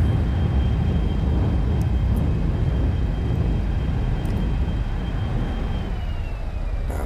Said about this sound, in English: So now I engage the parking brake, speed brake, and reverse thrust.